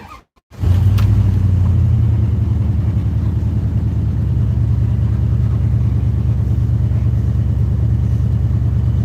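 A car engine idles steadily after a restart, a loud, continuous low rumble that starts abruptly near the beginning and holds even throughout, with no talking.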